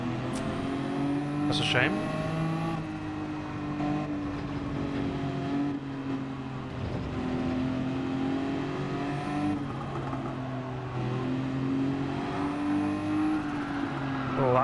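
A race car in Gran Turismo 7 revs hard and accelerates, its engine note climbing in steady tones. Someone talks over it throughout.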